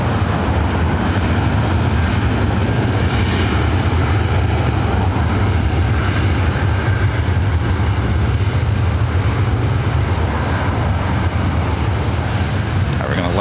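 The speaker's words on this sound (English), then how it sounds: "We're going to let that JetBlue flight take off." A JetBlue airliner takes off from runway 24 right at LAX, a loud, steady, broadband engine roar with heavy low rumble that holds throughout, with a voice talking over it.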